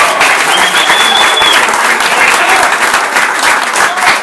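A crowd at an indigenous social movement's political event applauds with steady, loud, dense clapping that fills the whole stretch, along with some cheering.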